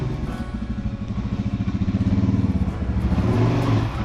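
A nearby Suzuki DRZ motorcycle engine runs with a rapid, throbbing pulse that rises slightly in pace and loudness as it revs over a few seconds.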